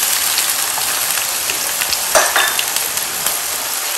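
Onion and bell pepper frying in a hot pan for breakfast, a loud, steady crackling sizzle that holds throughout with a few sharper pops and stirring scrapes and no voices.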